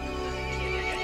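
A horse neighs and whinnies in Resident Evil Village, a loud, close, drawn-out harmonic cry lasting about a second over a steady game background, with no talk.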